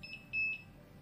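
Two short, high electronic beeps in quick succession from a Tryka Gears Pharos light's button, switching to hazard blinking mode, clean and fairly close, with a faint background hum.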